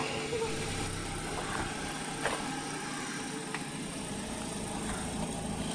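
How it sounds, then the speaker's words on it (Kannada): A Honda Dio scooter engine running with a steady mid-pitched motor hum at moderate level; no distinct approach is evident. "ಸ್ಕೂಟರ್ ಬರ್ತೀನಿ ಡಿಯೋಡ್ ಬರ್ತೀನಿ"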